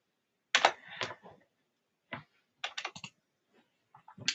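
Typing a note on a computer keyboard in Mendeley: close, clear clusters of key taps separated by short pauses, with no talking.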